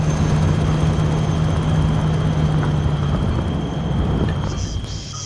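A helicopter flies in the military video game Arma 3, a steady broadband rotor drone with a low hum that holds throughout and eases slightly near the end.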